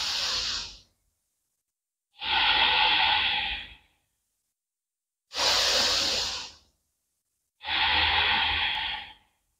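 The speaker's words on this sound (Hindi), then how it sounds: "लंबा गहरा सांस लेना।" Long, deep yoga breaths, four slow airy whooshes of inhaling and exhaling, each lasting about two seconds, close and clear with silent pauses between them and no talking.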